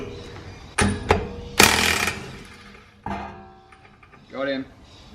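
A Makita power tool undoes a large wheel nut from an R32 Skyline held in a vise, with several sharp loud hammering bursts, the longest about half a second, between quieter mechanical noise.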